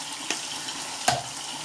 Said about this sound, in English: Hopefully you guys can hear me okay over the water.